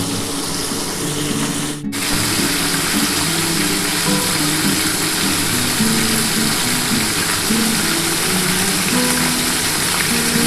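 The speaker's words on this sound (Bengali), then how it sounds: "আমি মাছের কটা পিস আমি আগে ভেজে নিচ্ছি" Pieces of hilsa fish fry in hot oil in a pan, a steady dense sizzle running continuously with a brief cut near the start, fairly loud and alone without talk.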